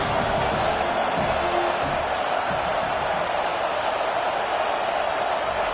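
Steady dense roar of a stadium crowd at an NCAA football game, loud and continuous with no clear peaks, the crowd noise filling the whole stretch as fans try to keep the offense pinned deep.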